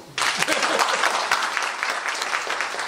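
A room full of people at a philosophy lecture breaks into sudden, dense clapping that continues steadily and close by for a few seconds.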